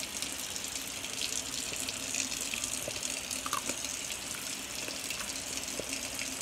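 A tap runs steadily into a sink while hands are washed, a soft continuous splashing hiss at low level with no talking.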